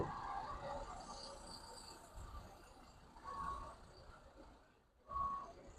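A KSRTC bus bound for Tirupati at a large bus stand in Mangaluru, Dakshina Kannada: a steady, moderately quiet engine rumble with two short tonal beeps, the second near the end, and faint background murmur.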